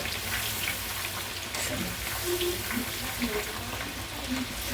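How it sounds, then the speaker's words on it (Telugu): Corn kernels deep-frying in hot oil for crispy corn, a dense, continuous bubbling sizzle with scattered small pops, close and steady throughout, no talking. "వీటిని బాగా క్రిస్పీగా ఫ్రై చేసుకుందాం."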